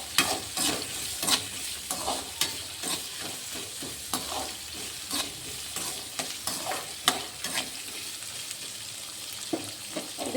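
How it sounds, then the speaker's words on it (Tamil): Onions frying in a pan until golden brown for a tempered onion rice dish, a steady quiet sizzle broken by repeated rhythmic scraping strokes of a stirring spoon, close up with no voices. "ஆனியன் நல்லா கோல்டன் ஃப்ரை வர வரைக்கும் நல்லா நம்ம வதக்கி எடுத்துக்கலாம்."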